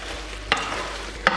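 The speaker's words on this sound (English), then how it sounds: "So we are gonna stir it a little bit." Garlic butter shrimp with parsley stirred in a hot pan, a soft steady sizzle broken by two quick scraping stirs, close and fairly quiet.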